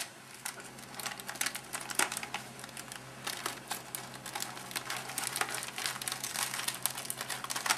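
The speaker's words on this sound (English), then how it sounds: "Get a piece of packing tape." Packing tape crackles and rips off in a long run of dense crinkly snaps and tearing noises, steady and close throughout.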